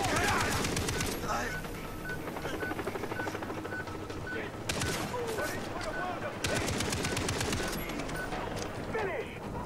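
Enemy gunfire in the shooter game Far Cry 3, rapid automatic bursts crackling in dense repeated volleys across the whole stretch, loud and close, with game ambience and a voice briefly talking over it.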